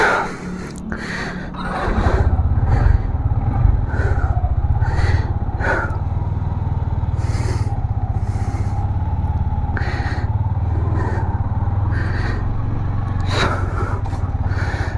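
A Yamaha MT15 V3 motorcycle, before its first service, is started and ridden. A steady engine drone runs from the start of the ride under repeated close breathing and wind buffeting inside the rider's helmet.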